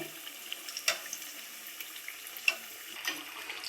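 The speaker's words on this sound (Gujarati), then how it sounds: "આપણે ધીમો ગેસ રાખીને જ આપણે તળવાનું છે." Garlic potato fritters deep frying in oil over a low flame, a soft, steady bubbling with a few louder pops and crackles.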